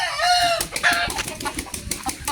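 A fighting-breed chicken gives a drawn-out crow-like squawk followed by quick bursts of clucking, close and fairly loud, with other fowl noises around.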